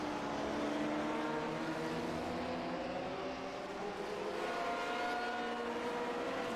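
Vintage Grand Prix Legends race cars lap the Okayama circuit in iRacing, several engines droning loud and steady, their pitch sliding as the cars accelerate out of a corner.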